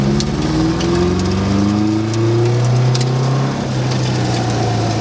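A Porsche 914 project car engine accelerates, its note rising steadily under load through a single continuous pull, loud and close with no talking.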